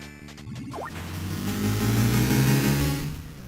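Racing car engine in the TurboGrafx-16 game Final Lap Twin, a synthesized buzzing motor that sweeps upward in pitch and then holds a steady, loud revving drone.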